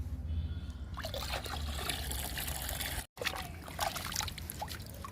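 Liquid fertiliser poured onto potted flowering plants, a steady close trickle and splash of liquid running for several seconds with a short break midway.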